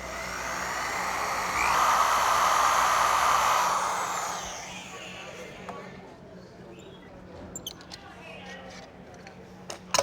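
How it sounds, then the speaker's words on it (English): Power drill boring a 5/8 inch hole through a wooden serving board, a whining motor and rough cutting hiss that builds, holds for a few seconds and winds down, followed by quieter scattered taps and clicks. "Next, we're going to drill the hole for the little loop to hang the board."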